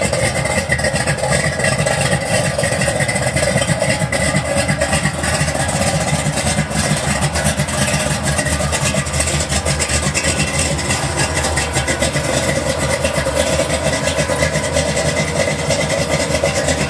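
A stage-1 1987 Buick Regal with a 455 engine idles steadily and close, a constant loud rumble with no talking over it.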